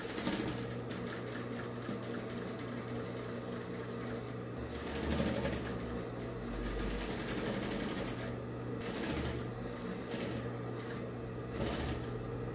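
A sewing machine runs steadily at speed, a fast mechanical whirring hum with slight fluctuations and brief shifts in tone, close up and without speech.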